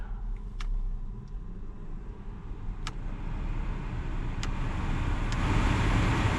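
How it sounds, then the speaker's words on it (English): A heater blower motor in an Alfa Romeo Mito runs with a steady, broad whooshing drone that grows slightly louder toward the end, broken by a few faint clicks, with no talking. "That motor is blowing again."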